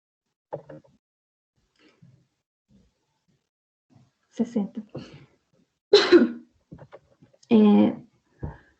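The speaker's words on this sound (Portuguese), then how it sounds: "eu vou ficar tossindo um pouquinho" Several separate coughs and throat clears, close and fairly loud, scattered among quiet pauses in a still room.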